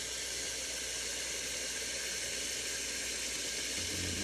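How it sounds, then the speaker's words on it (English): Water running steadily into a pot for rendering beeswax, a constant loud hiss of pouring with no breaks and no speech. "So next we just want to get some water in here."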